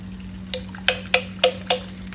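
Mustard paste thinned with water and strained for a hilsa curry, giving five short wet drips or splashes at steady intervals over a low background hum, close by with no talk.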